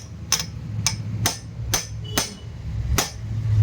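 A hammer taps about six times at an even pace to loosen a star screw on the clutch plate cover of a Hero Splendor Plus BS6 motorcycle, each hit a crisp, close metallic knock.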